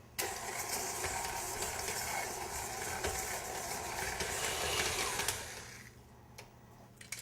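A stand mixer beats butter for shortbread, its motor whirring steadily and fairly loud for about five seconds before winding down near the end.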